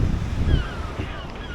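Ocean waves wash and surge beneath Brighton pier, heard through gaps in the boardwalk as a brief, low, rumbling swell mixed with gusty wind buffeting the microphone.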